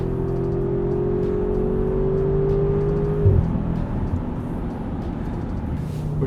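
A 2021 ABT Audi RS6-R with 690 horsepower, heard from inside as its engine hums and whirs steadily, a rising tone dropping at a gear change, followed by a deeper drone.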